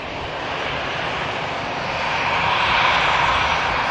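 An EasyJet passenger jet arriving from Paris at Manchester Airport, a loud, steady broadband engine roar that swells slightly, with no talk over it.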